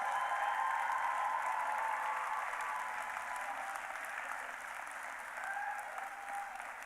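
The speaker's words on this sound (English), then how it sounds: "Let's have one more big round of applause for all of our graduates." Sustained applause from a large crowd at a pharmacy school graduation ceremony, a dense even patter of clapping that slowly eases off slightly while continuing throughout.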